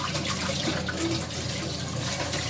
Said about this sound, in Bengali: এগুলো সব ধুয়ে নিই